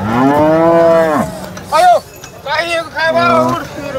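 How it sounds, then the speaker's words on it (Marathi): A cow moos loudly nearby, one long low call followed by several shorter, rising moos. "गाय बघू शकताय तुम्ही"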